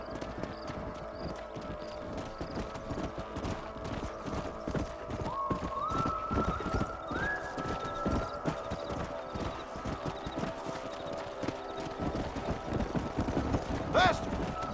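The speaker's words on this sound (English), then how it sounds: "don't let those horses out of your sight." Horses gallop in the Red Dead Redemption video game, with a rapid, rhythmic clip-clop of hooves running continuously up close, a whinny near the end and game voices in the background.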